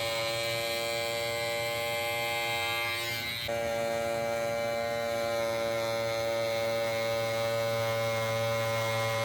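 An electric fabric shaver runs across a tufted rug, removing lint in a continuous close mechanical buzz with a steady hum that shifts briefly in pitch partway through.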